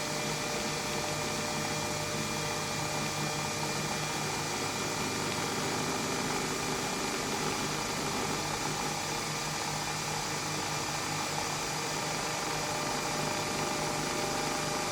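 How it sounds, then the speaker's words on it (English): A Nespresso Aeroccino 3 milk frother heating milk gives off a steady, even motorised whir at moderate level for the whole stretch, with no talk over it. "I can see my Aeroccino's just finished as well, so the warm milk's ready."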